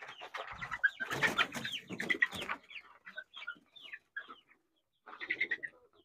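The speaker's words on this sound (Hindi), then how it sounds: "ये वो मुर्गियाँ हैं" Hens with their chicks clucking on a farm, a cluster of close clucks and cackles followed by sparser soft calls and peeps, no talking.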